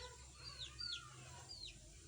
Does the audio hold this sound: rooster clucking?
yes